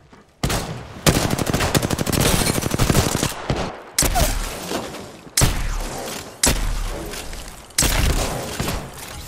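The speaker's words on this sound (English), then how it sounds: "They spotted me. I'm taking shots." Rapid automatic gunfire in a shooter video game, loud and close, with sustained bursts broken by short pauses and heavy single impacts between them, no talking.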